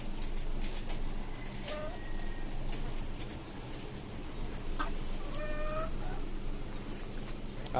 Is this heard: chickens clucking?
yes